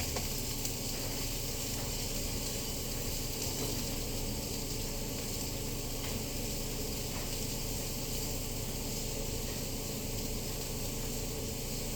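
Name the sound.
onions frying in a hot pan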